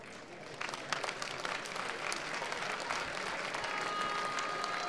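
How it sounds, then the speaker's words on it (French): An audience applauds after a successful gymnastics final routine, a steady, even wash of clapping from a large crowd that holds at a constant level throughout. "Exercice réussi et applaudi."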